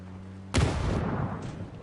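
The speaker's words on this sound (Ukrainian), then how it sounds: "Він ще й гранату мені швирнув" A grenade thrown at the player explodes in a video game, a single sudden loud blast that breaks a low hum and rolls off into a rumbling, crackling tail lasting more than a second.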